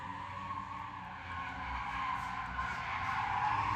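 A 270Z drift car at drift championship practice screeches its tires in a sustained, steady squeal with engine roar beneath, growing slightly louder as it sweeps through a transition.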